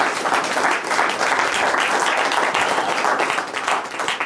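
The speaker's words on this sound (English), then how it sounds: "Let's have a big round of applause for my newest friend from the audience here." Sustained applause from an audience, dense steady clapping filling the space for several seconds without a break.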